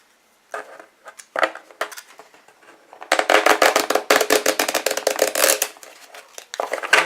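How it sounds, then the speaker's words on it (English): Tarot cards shuffled by hand in a run of quick papery riffles and slaps, sparse at first and then a dense, loud burst of rapid crisp flutters, with no talking. "Let me see if I could give it a little shuffle."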